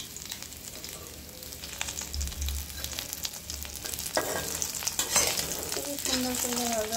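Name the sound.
tengra fish frying in oil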